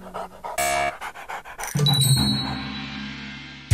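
A cartoon dog pants heavily and rhythmically at close range, following brief musical tones and a rising chime in a busy animated scene.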